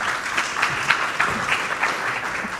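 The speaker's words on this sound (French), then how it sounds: "On peut l'applaudir." An audience at a live event applauds a presenter invited onto the stage, giving sustained, even clapping from many hands that holds steady throughout.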